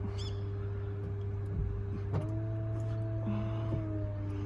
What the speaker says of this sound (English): the roof folds away like so